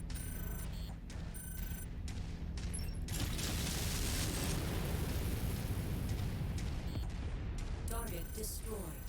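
Video game explosions and heavy gunfire in a combat match, a dense, loud, continuous roar of blasts and bursts with mechanical clatter, punctuated by brief electronic interface tones near the start and end.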